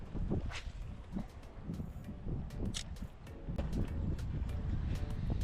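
Wind gusts across a golf course pond outdoors, rumbling steadily into the microphone with intermittent buffeting bursts and faint rustling throughout, with no talk.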